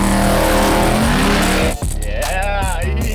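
A car does donuts at a no-prep drag racing event, its engine roaring loud and close and its tires squealing, before the sound cuts and revs up again, with voices mixed in.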